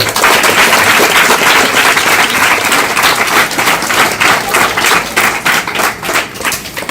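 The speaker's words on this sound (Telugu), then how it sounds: "అందరికీ ఒకసారి గట్టిగా చప్పట్లు కొట్టండి" Audience applause for students at a school event, a dense burst of many hands clapping that stays loud and steady throughout, with no voices over it.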